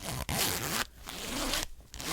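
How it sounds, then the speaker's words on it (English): A smooth bag zipper is pulled back and forth in close, quiet ASMR-style strokes, several separate zips with short pauses between them and no talking. "Oh, that's a smooth zipper."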